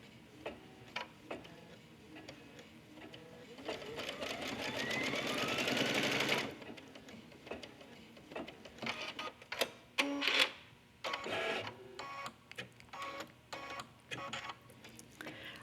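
An embroidery sewing machine stitches fold-over elastic onto a fabric passport cover with rapid mechanical whirring and clatter, first in a long steady run, then in shorter stop-start bursts of stitching.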